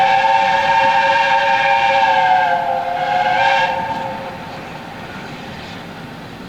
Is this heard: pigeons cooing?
no